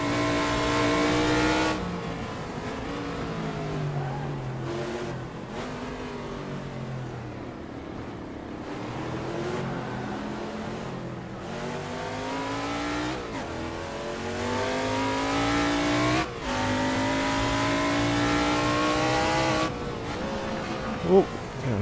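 Formula 5000 race car in Assetto Corsa, engine revving hard and rising in pitch through repeated abrupt gear changes, loud and continuous with brief tyre noise, someone talking over it.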